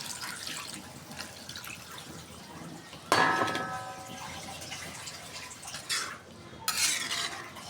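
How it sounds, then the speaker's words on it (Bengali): Water for an egg and potato curry is poured into a cooking pot, with a sudden splashing pour, clinks of metal utensils and pot, and softer later pours and stirring in a quiet kitchen. "এখন ঝোলের পানিটা দিয়ে দিব।"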